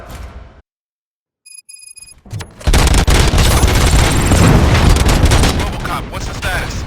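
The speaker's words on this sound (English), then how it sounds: "Gunshots? What's going on?" A burst of gunfire and loud booms in the video game RoboCop Rogue City, on Xbox Series X, erupts after a short silence and a few electronic tones, then continues as dense, sustained shooting for several seconds.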